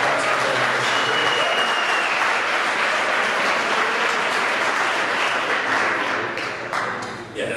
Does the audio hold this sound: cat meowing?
no